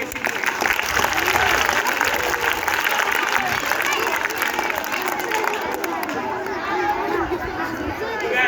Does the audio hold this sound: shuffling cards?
no